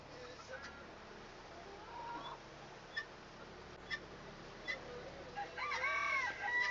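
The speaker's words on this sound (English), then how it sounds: "we've got 3 chickens" Chickens on a small farm cluck now and then at a moderate distance, with a rooster crowing toward the end over a steady outdoor background.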